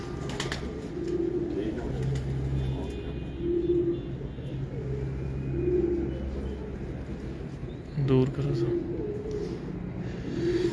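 Pigeons coo in repeated low soft phrases on a Multan rooftop, near and steady over a low rumble, while someone speaks briefly partway through.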